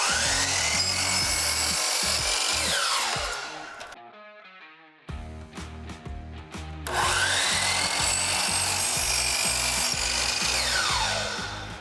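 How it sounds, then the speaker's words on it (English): A power saw cuts wooden baseboard at a 45-degree angle: a loud, steady whining cut that dips briefly midway and then resumes at full strength, close-up and continuous with no talking. "so now we're going to cut our baseboard to fit that corner"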